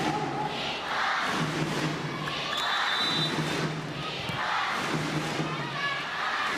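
A packed crowd of about 10,000 fills the Tokyo Metropolitan Gymnasium at a Japan versus Kazakhstan volleyball qualifier, chanting for Japan in a steady two-beat rhythm, loud and continuous across the arena.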